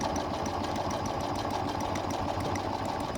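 A Janome M7 sewing machine stitches steadily through fake leather, its fast, even motor whir and needle chatter running continuously and close up with no pauses.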